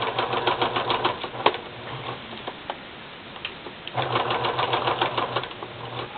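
Sewing machine stitching paper stamps onto an old New Zealand postcard: rapid close mechanical needle clatter in two bursts, with a lighter ticking pause between them.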